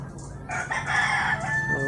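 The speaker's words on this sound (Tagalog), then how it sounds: "Yung dami manok dito." A rooster crows loudly over a background of clucking chickens, with no talk.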